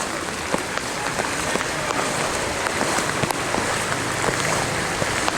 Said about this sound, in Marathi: बघा किती पाणी वाहते वरून जोरात.